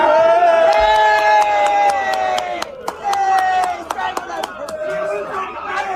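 An audience applauds and cheers in a played-back clip, with scattered clapping and whoops under ringing tonal noise, loud and continuous.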